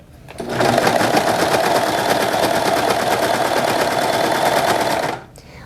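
A serger stitches over an existing seam on a reusable make-up removal pad, starting abruptly and running at a loud, fast, steady whir for about four and a half seconds before stopping.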